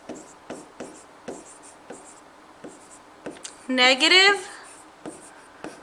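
Pen or marker strokes on a board or paper during a real-number-system lesson, a steady run of short scratchy taps, close and clear, with a voice breaking in briefly midway.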